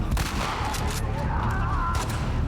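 Gunfire in The Last of Us Part 2 crackles in a steady, loud stream of overlapping shots and booms, with a voice talking underneath throughout.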